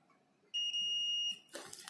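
Multimeter continuity beep when a wire is placed across a breadboard strip: one sustained high electronic tone lasting under a second, clear and close, followed by brief rustling handling noise.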